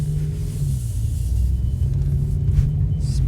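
A car with an S85 V10 engine swapped to a DCT gearbox pulls away in drive, giving a steady, smooth low engine rumble heard from inside the cabin throughout, with no talk.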